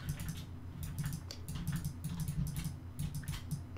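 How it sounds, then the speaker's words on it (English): Rapid, light clicking from a computer mouse and keyboard during parts-processing work, a close, busy patter of small taps over a low steady hum with no talk. "Do you guys need me to mute the mic while I'm doing all this clicking?"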